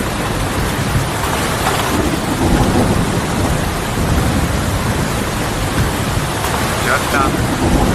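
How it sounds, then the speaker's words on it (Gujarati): Heavy rain pours in a village in a loud, continuous hiss, with low thunder rumbling beneath it throughout. "તમે જોવો વરસાદ કેવો પડે નહીં"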